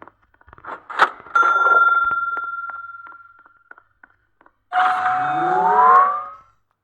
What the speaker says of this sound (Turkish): Oğlum zil mi çalıyorsunuz böyle dın dın dın.